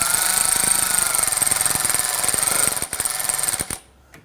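Alternator bolts being snugged down on a 2009-2017 Volvo XC60 3.2L inline-six, a steady loud whirring power-tool drive with rapid ratcheting clicks that stops abruptly near the end.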